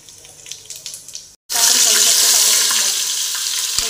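Whole spices dropped into hot oil and homemade ghee for matar pulao burst into a loud, sudden sizzle after a brief silence, settling into a steady bright hiss; faint kitchen clatter and soft sounds come before it.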